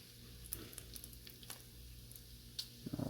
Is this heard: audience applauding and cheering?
no